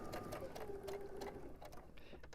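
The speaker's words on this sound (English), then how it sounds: "pick up my presser foot, and continue to sew" A sewing machine stitches a quilt block in short, quick bursts of rapid mechanical clatter that are fairly faint and close.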